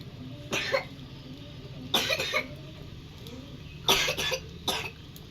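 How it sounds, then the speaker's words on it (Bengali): Several separate bursts of coughing from a young child, in short clusters spaced a couple of seconds apart, over a quiet room background. "খুব কাশি কাশি হয়েছে"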